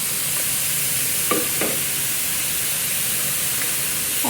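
Vegetables stir-fried with minced pork and glass noodles, a loud, close, continuous sizzle broken by a couple of scraping stirs near the middle.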